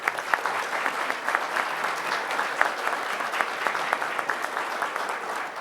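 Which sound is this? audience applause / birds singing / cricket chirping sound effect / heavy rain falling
audience applause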